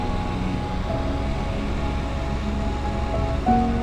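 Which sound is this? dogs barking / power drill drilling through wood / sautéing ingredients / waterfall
waterfall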